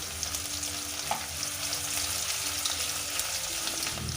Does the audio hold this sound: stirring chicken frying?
yes